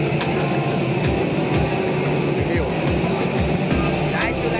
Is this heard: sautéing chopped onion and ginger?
no